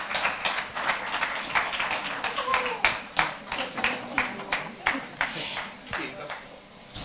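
Scattered hand claps ring out in a loose, uneven rhythm, a modest round of applause heard from a short distance, no voices on top.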